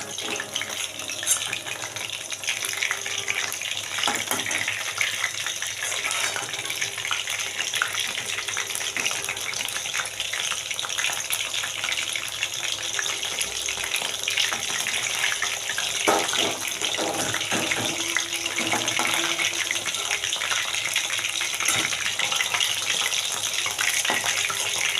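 Chicken pakoras fry in hot oil with a steady, dense crackle and hiss that runs evenly throughout, close and fairly loud, with no talking.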